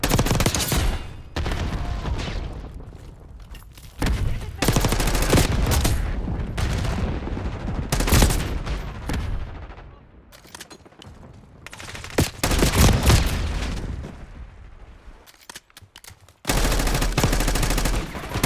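Heavy gunfire in the video game Call of Duty Black Ops 6, loud sustained automatic bursts and shots in long dense stretches broken by brief quieter gaps, close and dominant.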